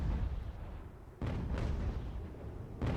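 Naval cannon broadsides in the age-of-sail game Ultimate Admiral: Age of Sail, heavy booming shots landing at about 1.2, 1.5 and 2.8 seconds over a continuous low rumble of battle, with no talk.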